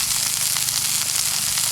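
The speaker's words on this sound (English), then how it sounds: "right now I'm cooking in those fish in a cast iron frying pan that we caught today" Freshly caught fish frying in a cast iron pan, a steady close sizzle and crackle of hot oil, continuous and fairly loud with no talking.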